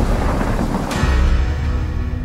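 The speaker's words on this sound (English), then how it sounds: "There's a storm." A storm with thunder in a film trailer: a dense wash of rain and wind with a sharp crack near the middle, followed by a deep, heavy rumble that rolls on loudly to the end.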